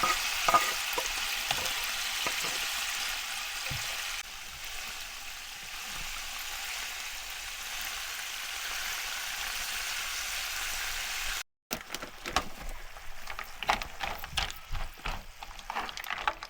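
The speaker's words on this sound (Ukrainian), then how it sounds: "Порізано чесночок, м'ясо. Вже піджарюється." Meat and chopped garlic fry in a pan inside a camper van, a steady close sizzle filling the clip with a brief gap near the end, then crackling resumes more unevenly.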